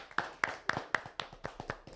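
A small group of people claps for a guest on a podcast interview set, with sparse, evenly spaced, slow hand claps ringing out one by one, close and fairly quiet, and no voices.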